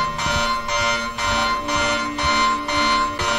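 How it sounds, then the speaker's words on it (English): A loud electronic alarm rings in the horror video game Anthology of Fear, blaring in even, repeated bursts of about half a second with short gaps between them. "The fucking alarm?"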